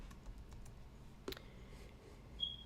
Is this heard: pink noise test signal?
no